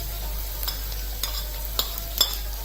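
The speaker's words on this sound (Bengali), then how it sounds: "তারপরে কাঁচামরিচ দিয়ে দেবো।" Green chilies go into a frying pan for a wax gourd and shrimp dish, with a soft background sizzle and a few light stirring scrapes over a steady low hum.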